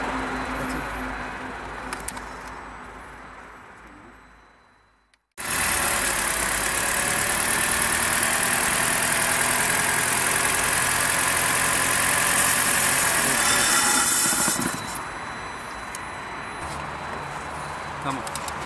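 A car engine is restarted during a Liqui Moly throttle body cleaning. After a fading sputter and a brief silence it catches and runs loud and steady, then settles to a quieter idle near the end.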